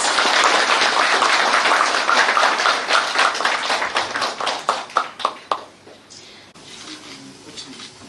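An audience applauds a government minister at an official ceremony, dense clapping that thins into a few separate claps before fading, with faint voices and room noise after.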